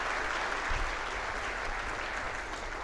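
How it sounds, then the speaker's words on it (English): Summit audience applauding the day's speakers at an AI human capital event in India, steady dense clapping from a large crowd that holds at an even level throughout without pause. "May we have a big round of applause for all the wonderful speakers that we have had today."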